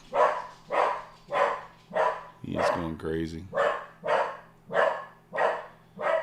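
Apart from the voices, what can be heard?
dog barking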